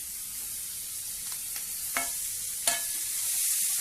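Onion and tomato sautéing in a pan for a Maharashtrian birdya fry, a soft, steady sizzle with a few sharp spatula knocks against the pan, quiet and close with no talking.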